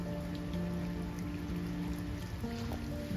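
Rain falling steadily on a rainy day, a continuous close patter of drops on surfaces with a few faint tonal hums underneath.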